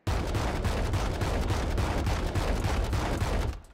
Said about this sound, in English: The judge is the fully automatic shotgun.